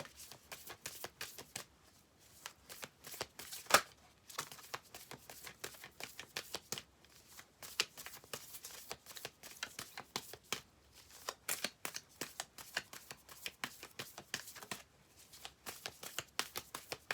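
Oracle cards with animal spirit themes are shuffled for a long stretch, giving rapid repeated riffles and snapping card edges with brief gaps, close and without talk.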